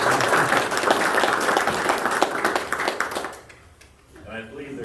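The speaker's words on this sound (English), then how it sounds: "Give them a round of applause." A Nimishillen Township, Ohio trustees meeting audience gives a loud, full round of applause that tapers off after a few seconds, and then a voice begins talking nearby.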